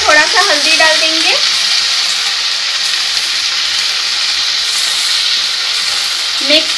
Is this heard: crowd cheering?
no